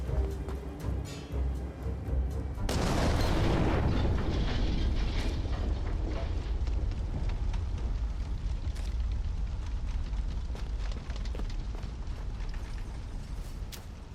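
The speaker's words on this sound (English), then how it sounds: "The explosion tore open the train car." A bomb detonates on a train car in a video game, a sudden heavy blast that erupts a few seconds in and then rolls into a long, roaring rumble of debris and fire that stays loud and dense to the end.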